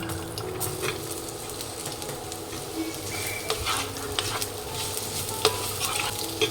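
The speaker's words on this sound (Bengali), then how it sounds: "আলু ভাজাটা করব সর্ষের তেলে শুকনো লঙ্কা আর কালো জিরে ফোড়ন দিয়ে" Potatoes fry in mustard oil tempered with dried chilli and nigella seeds, giving a steady, close sizzle with stirring scrapes and a few sharper pops throughout.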